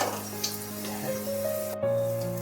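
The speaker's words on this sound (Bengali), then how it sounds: "পেঁয়াজটা বেশ লাল লাল করে ভাজা হয়ে গেছে।" Onions, fried reddish-brown, sizzle in hot oil at a moderate, steady level, with a low hum and a few tonal sounds in the background.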